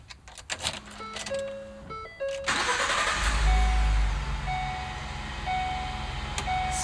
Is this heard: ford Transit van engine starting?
yes